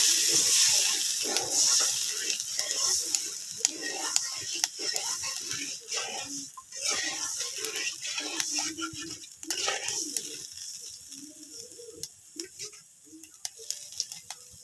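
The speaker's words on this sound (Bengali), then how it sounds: "কড়াইতে পানি দিয়ে দেবো, ঝোলে পানি অল্প দেবো, বেশি দেবো না।" Water is poured into a kadai of fish curry after the spices have been fried in oil, giving a steady splashing and sizzling pour that fades into softer bubbling and intermittent clicks over about fifteen seconds.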